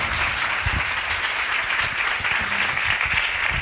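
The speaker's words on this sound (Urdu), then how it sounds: "زوردار تالیاں۔" Loud, sustained clapping from a church congregation during a Pentecostal worship service, a dense wash of hands with a few lower thumps and faint murmurs mixed in.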